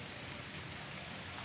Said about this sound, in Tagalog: Ayan na naman yung ulan.